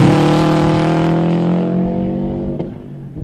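Race car on Toyo Proxes R888 tyres cornering hard at Oran Park circuit, a loud, close engine holding a steady high-revving tone throughout, easing slightly and shifting near the end.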